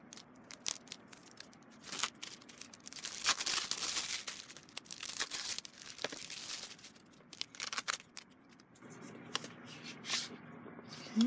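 A paper sleeve around the packaging of an electric dot pen is handled close up, with irregular crinkling, rustling and sliding bursts that come and go without speech.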